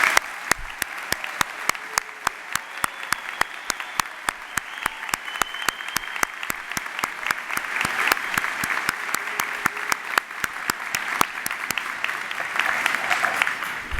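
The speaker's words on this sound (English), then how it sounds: "giving Brock's graduating class of 2017 a warm round of applause and congratulations" Audience at a university graduation ceremony gives a long, even round of applause, a dense wash of clapping with sharp regular claps standing out close by, continuing for many seconds.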